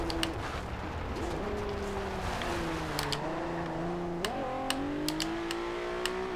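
A 2012 Nissan GT-R Black Edition in Forza Horizon 2 roars at full throttle in second gear through a gravel corner, its engine note climbing steadily and jumping with each shift, with faint chirps in the background.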